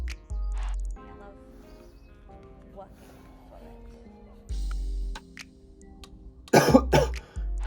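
A person coughs after smoking, a loud burst of harsh rasping coughs near the end, preceded by muffled talk and low background rumble.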